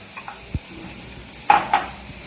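Stirring cream sauce and cheese sauce into infused chicken in a pan: a soft low scrape, then two brighter clinks of a utensil against the pan, over a faint steady sizzle.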